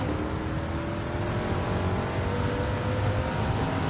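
A race car engine in Gran Turismo 7 holds a steady, partial-throttle drone, the tone barely shifting as the power stays on, loud and continuous with no gaps.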